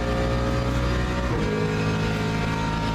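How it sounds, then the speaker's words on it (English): Ford Mustang GT3 race car engine in a racing sim roars at high revs, then drops pitch sharply as the driver shifts, a loud, continuous drone with no talk over it. "But this is also not what a Mustang sounds like."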